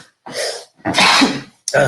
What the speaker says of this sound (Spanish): Perdón, me estornudo.